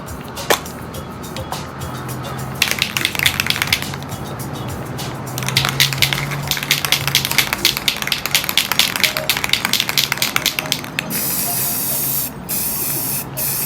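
Rust-Oleum navy gloss spray paint hissing onto a wooden door sign in a series of short, close bursts, with brief pauses between sprays and one long steady spray near the end.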